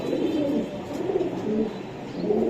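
High-flying Girebaz pigeons in Lalbagh, Old Dhaka, coo close by in repeated deep, throaty rolling bursts that rise and fall steadily over a few seconds.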